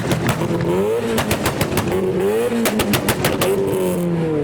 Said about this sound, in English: there's an MX-5. I think it's a Mark III doing some donuts